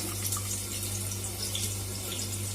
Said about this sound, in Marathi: आता काढून अजून एकदा धुवून घ्यायचं याला